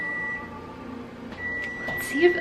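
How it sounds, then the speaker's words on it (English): A kitchen oven timer beeps while baking, a steady electronic tone sounding twice with a short gap, with a person talking over it near the end. "There goes my timer."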